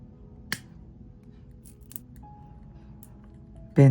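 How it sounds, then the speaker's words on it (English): Scissors snip off excess beading wire while a beaded earring is finished: two brief, quiet clicks stand out over a low background hum, followed by a louder handling clunk at the end. "Snip off the excess beading wire."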